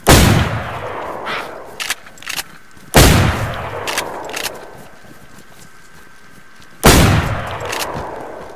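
Gunfire in the video game DayZ: three loud, sharp shots ring out a few seconds apart, each with a short decaying tail, separated by quieter clicks and footstep-like taps.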